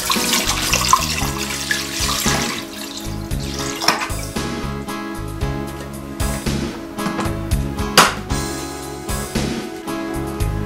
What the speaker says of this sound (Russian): Заливаю литр холодной воды.